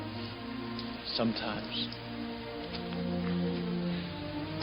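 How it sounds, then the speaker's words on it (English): Rain from a scene in the film The Crow falls as a steady, dense patter of moderate loudness that runs throughout, with a short spoken line in the middle. "I wish the rain would stop just once. It can't rain all the time."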